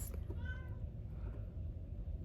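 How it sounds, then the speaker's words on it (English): Kittens shut in a bedroom meow faintly in the distance, a few thin cries early on over a low, steady indoor hum. "the cats stay in my son's room and just meow all day"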